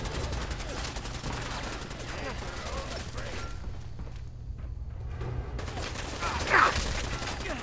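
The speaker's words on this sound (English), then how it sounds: "A swift shotgun to the back of the knee." Gunfire and heavy thuds in the Fallout 4 Nuka World combat, a close shotgun blast among a dense clatter of shots and impacts, with a short quieter gap before a loud burst near the end.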